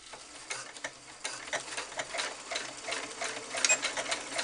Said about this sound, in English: So here I would do a zigzag stitch because you want to allow this elastic to stretch a little bit.